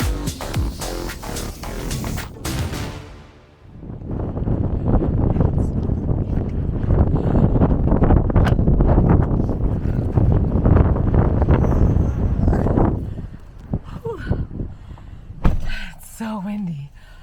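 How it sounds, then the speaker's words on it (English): Loud, steady wind buffeting the microphone in a continuous roar on a mountaintop near Lake Chelan, with a voice briefly audible at the start and end. "So windy."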